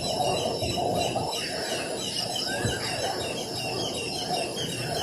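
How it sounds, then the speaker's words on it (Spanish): Birds calling at night in the Philippines before an earthquake, with repeated chirps and clucking, fowl-like cries over a steady background hiss, moderately loud and with no talk. "Este video con los sonidos de pájaros es de la noche anterior al terremoto."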